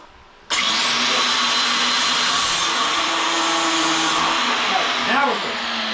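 Angle grinder cutting through metal, a steady loud whining roar that starts abruptly and holds for several seconds, with a brief shift in pitch near the end.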